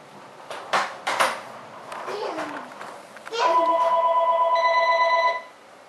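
A telephone rings indoors with a loud, steady electronic tone lasting a couple of seconds, after a few sharp knocks and bangs and a brief voice.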